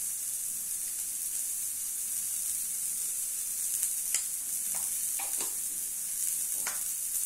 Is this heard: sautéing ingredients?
yes